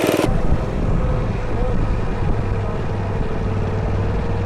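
A mini bike engine runs with the throttle held steady at around 15 mph, producing a loud, continuous droning hum mixed with wind rush.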